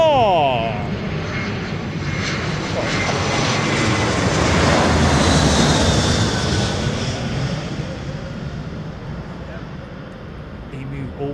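An airliner coming in to land at London Heathrow, its jet engines swelling into a loud, broad roar that peaks mid-pass and then eases off, with a voice talking over it.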